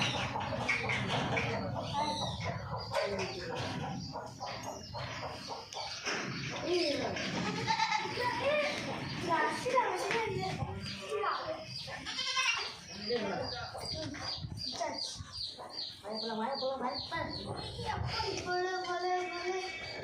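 Goats and kids bleat repeatedly while being dewormed with a few millilitres of medicine, calls rising close and loud between people talking over them.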